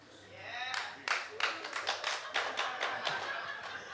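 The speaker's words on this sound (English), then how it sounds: "Clap if you're a lady with a beard." Sharp, uneven claps from several people break out in a tavern comedy audience in West Columbia, SC, starting after a quiet moment and continuing as a loose, irregular patter of distinct hand claps.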